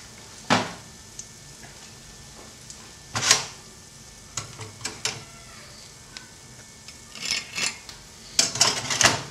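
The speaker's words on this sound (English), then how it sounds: "spread it a bit. You don't want all your butter on one spot." A knife scrapes butter across toast in short, close rasping strokes, scattered and irregular, with quiet pauses between bursts.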